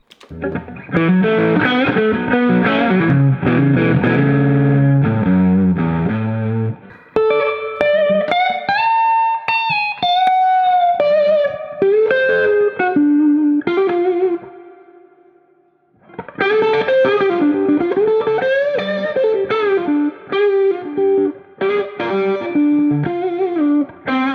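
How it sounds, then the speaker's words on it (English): Distorted electric guitar phrases played with varying pick attack, shifting from dense, heavy strumming to lighter melodic lines, with a brief pause midway. "I want you to hear the difference in the tone coming from how we pick and how hard we pick"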